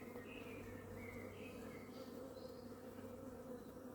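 A steady, dense insect drone fills the whole stretch, many honeybees humming together close by at an apiary hive with no pauses or talk.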